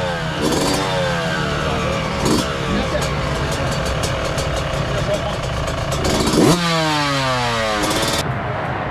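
A race motorcycle's engine restarts and revs with rising and falling pitch sweeps, loud and close, the bike idling between throttle blips before the race.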